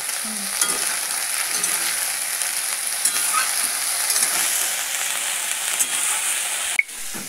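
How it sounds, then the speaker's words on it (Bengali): Potatoes and other vegetables fry in a pan for a Bengali mustard-paste dish, giving a steady, fairly loud sizzle with occasional scraping stir strokes and a sharp knock near the end. No talking. "সবজিটা ভাজা ভাজা করে নিয়েছে"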